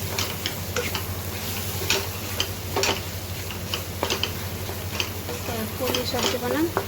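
Potatoes stirred and frying in a pan while cooking a breakfast of puri and potato sabji, with steady close sizzling, a low constant hum beneath, and scattered sharp scraping clicks from stirring throughout.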